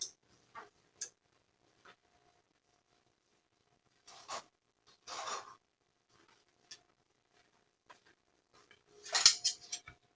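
Metal cutlery clinking sparsely in a small kitchen beside the sink while someone hunts for a fork and spoon, with faint isolated taps and then a louder rattle near the end.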